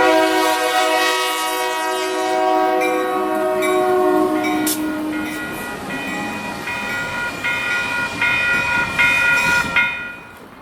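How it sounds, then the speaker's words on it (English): A freight train led by two engines approaches from the distance, its horn blaring in long sustained chords over the rising rumble and clatter of the locomotives, fading slightly near the end. "So in the distance there, that's the train that I'm out here to catch today."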